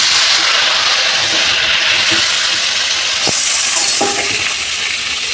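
Raw mango pieces go into hot oil with five-spice tempering in a pan for sweet pickle, making a loud, dense sizzle throughout with a few sharp clinks and scraping knocks near the end.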